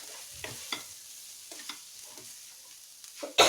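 Food sizzles quietly in a pan while a utensil stirs it in short irregular scrapes and clinks, ending in a louder burst of sizzling, with no talk.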